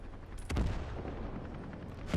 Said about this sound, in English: Both of those machine guns opening up.